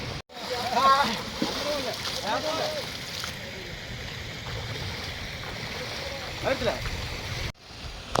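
Water splashes and sloshes around bathers in the Pandalam river, with people talking and shouting over the steady rush of the current.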